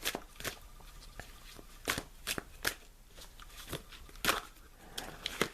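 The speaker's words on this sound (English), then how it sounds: "as I shuffle, I look for cards to stick out" Tarot cards being shuffled by hand, a quiet, close series of crisp riffling bursts and soft slaps repeating at an irregular rhythm.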